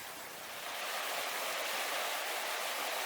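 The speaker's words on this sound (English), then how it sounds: "this is once again Jackson Creek on the west side of Peterborough" Jackson Creek on the west side of Peterborough rushes in early spring, a continuous broad hiss of flowing water with no voices.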